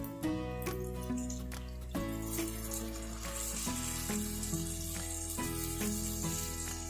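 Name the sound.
tamarind water added to sizzling fish curry pan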